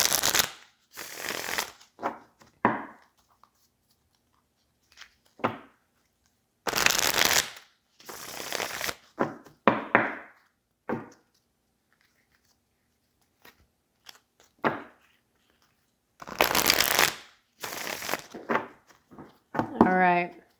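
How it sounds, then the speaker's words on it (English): Repeated bursts of cards being riffled and shuffled, several rounds in a row with pauses between, close up and crisp. "I did already shuffle, but I will shuffle a couple of times"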